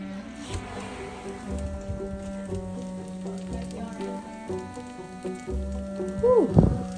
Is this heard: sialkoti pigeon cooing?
no